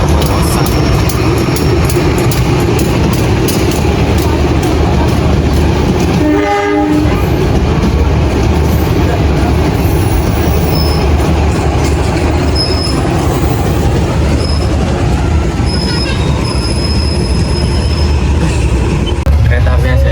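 A Walahar local train pulls out of Kosambi station in Indonesia: a loud, continuous rumble of carriages and wheels with a horn blast, clattering rails and wheel squeal as it departs.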